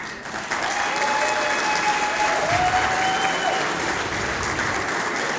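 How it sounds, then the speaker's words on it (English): An audience at an awards gala breaks into sustained applause, a loud, dense clapping that fills the room with a few voices cheering over it. "Let's give them a huge round of applause."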